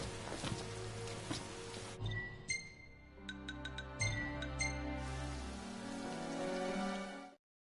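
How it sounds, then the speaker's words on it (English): Rain falls in the Final Fantasy XV game world as a steady, soft hiss beneath chiming melodic game music. The sound holds evenly, then cuts off abruptly near the end. "Rain."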